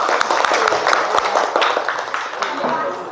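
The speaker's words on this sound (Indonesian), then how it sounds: "Beri tepuk tangan dulu." A classroom of students claps together after group presentations, a brief burst of dense close applause with some individual claps standing out, under faint voices.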